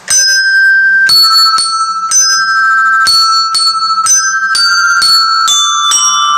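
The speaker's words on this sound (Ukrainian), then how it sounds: "Та це ж дзвоник." A small hand bell rings repeatedly in clear, bright strikes roughly every half second to second, each ring decaying briefly, loud and close with no talk.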